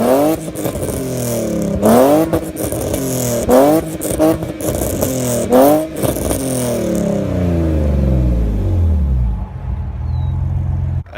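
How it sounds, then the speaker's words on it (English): A BMW E46 with a fully straight-piped exhaust running through a MagnaFlow muffler revs hard several times in a row, each loud rising blip falling back to a deep rumbling idle, with no talking. "it's fully straight piped through a MagnaFlow, and it sounds so good"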